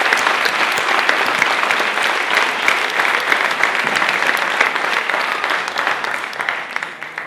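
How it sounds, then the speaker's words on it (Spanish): Loud, sustained applause from an audience at a social work awards ceremony, dense steady clapping that carries on without a break and eases slightly toward the end. "Así que un aplauso para ellos, por favor."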